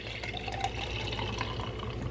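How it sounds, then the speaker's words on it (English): Medium roast coffee poured into a glass for an iced drink with pistachio creamer, a continuous close trickling and filling sound lasting a couple of seconds. "Then I pour the coffee."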